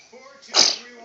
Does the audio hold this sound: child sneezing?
yes